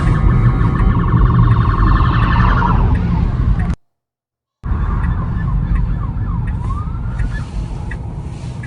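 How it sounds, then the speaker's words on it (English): Two police cars approach at night with sirens wailing in rising and falling sweeps, loud and close, first while a Tesla Model Y running FSD V14 pulls to the roadside and then again after a brief cut. "2 police cars came up behind me tonight with flashing lights and sirens"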